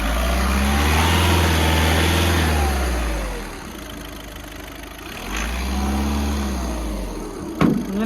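White 2017 Volkswagen Ameo Trendline diesel with about 87,000 km, its engine idling close by and twice revving up with a deep rising drone before settling back, ending with a sharp click.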